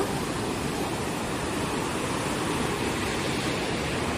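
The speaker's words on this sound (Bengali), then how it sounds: "জলের আওয়াজে কতটা তোমরা সাউন্ড পাচ্ছ আমার, বাট জলের ভীষণ সাউন্ড এখানে" Suru River in Ladakh rushing with great force, a steady, dense roar of fast-flowing water filling the whole clip, loud and unbroken with no voices.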